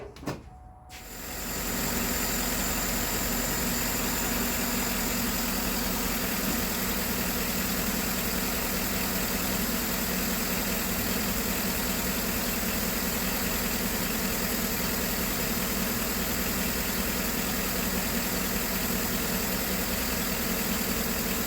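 A car engine with a dirty mass air flow sensor turns over and settles into a steady, continuous idle, running close and even for about twenty seconds with no talk.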